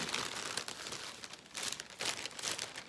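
Oyster crackers tumble into a plastic zip bag over a seasoning mix, giving bursts of crinkling and rustling plastic with small crunchy rattles, close and fairly quiet, no talk.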